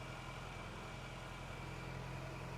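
A Toyota or Lexus engine idles steadily with a constant low hum and no change in pitch or level, heard alone.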